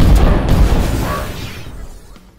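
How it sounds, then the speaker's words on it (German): Explosion in the sci-fi robot strategy game Bionic Dues: a loud burst that opens with a heavy low boom and crackling debris and decays steadily over about two seconds, alone with no talk. "Diese Explosion ist heftig"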